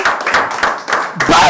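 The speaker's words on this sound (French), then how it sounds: "Acclamez pour la parole de Dieu." A church congregation claps in a quick, even rhythm, the claps close and loud, with voices calling out amid the clapping.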